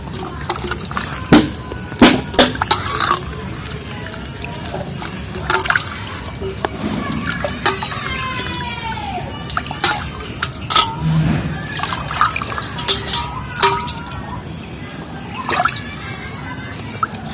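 Cut raw mangoes being washed in a bowl of water, with close, intermittent splashing, sloshing and sharp clattering knocks coming in uneven bursts throughout.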